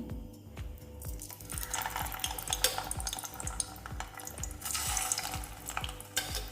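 Eggs frying in hot oil for an egg curry, a steady sizzle with repeated soft scraping and tapping strokes in a regular rhythm, close and fairly loud, with no voices.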